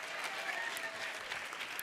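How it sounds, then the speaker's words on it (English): Audience applause fills a hall during a motivational speech, a dense steady clatter of many hands clapping at even loudness for the whole stretch, with no voice over it. "Give a big round of applause."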